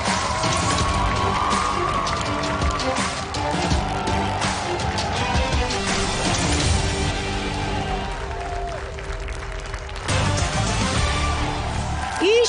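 Studio audience at a television show applauding and cheering, a dense continuous wash of clapping and crowd noise that briefly dips and then swells again near the end, with voices mixed in.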